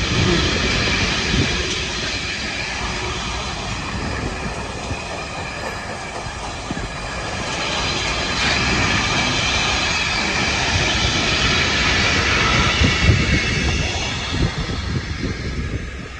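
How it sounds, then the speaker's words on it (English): A long freight train rolls past at Heaton Lodge Junction, its steady broadband rumble and clatter of wagons holding loud and continuous for the whole stretch, with no talking. "Quite a long train, this one."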